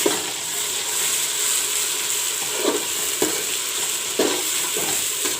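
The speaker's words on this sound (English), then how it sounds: "Now I will put the ginger, garlic and onion paste." Ginger, garlic and onion paste sizzles in hot oil with browned onions for a village-style mutton curry, a steady close fry broken by a few sharp clicks and scrapes of stirring.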